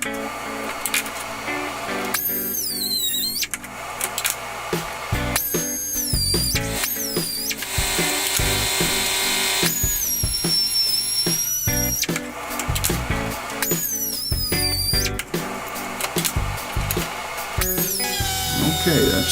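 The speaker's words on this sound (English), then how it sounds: "So now we got to cut the heads off these bolts." A power tool cutting the heads off bolts during a Warn winch install on a garage floor, with whining bursts that start and stop repeatedly, loud and close, plus clanks between the cuts.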